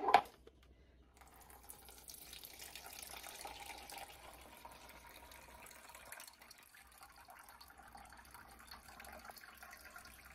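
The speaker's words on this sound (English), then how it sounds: "pop my simmering basket into the bowl and I'm now going to strain that off yet again" Liquid strained from freshly made butter through a Thermomix TM6 simmering basket into the mixing bowl, a faint steady trickle following a brief clunk at the start, with no talking.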